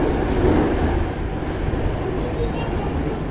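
A Jakarta MRT subway train runs with a steady, loud low rumble and rattling, sustained throughout without a break.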